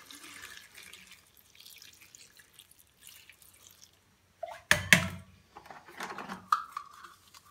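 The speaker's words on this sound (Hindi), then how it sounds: "पानी ऐड कर दें थोड़ा जा" Water splashes into a cooking pan of cabbage and mixed vegetables for pav bhaji, a brief burst of pouring and sizzling amid quiet kitchen clatter.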